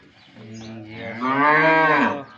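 A Gaolao cow, about ten or eleven years old, gives one long, close moo that starts low, swells louder through the middle, then trails off.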